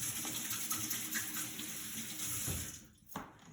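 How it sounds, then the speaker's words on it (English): A kitchen tap runs while hands are washed during cooking, giving a steady, fairly quiet hiss of flowing water with a brief splash and clunk near the end. "I'm going to wash my hands."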